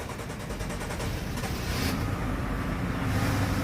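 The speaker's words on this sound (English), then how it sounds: "Nice quiet engine." A 2010 BMW 750Li long-wheelbase sedan sits with its engine running, giving a steady, quiet low rumble with a faint airy hiss over it and no talking.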